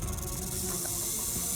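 A snake hisses in a continuous, fairly faint breathy rush that runs throughout without pause.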